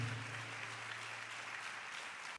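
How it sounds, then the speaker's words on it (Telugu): A congregation at a Telugu church service claps together, an even, quiet wash of hand-clapping heard from a distance that holds steady with a low hum beneath, then cuts off sharply at the end. "అందరం చప్పట్లు కొట్టి దేవుని మహిమపడదాం సంతోషంగా."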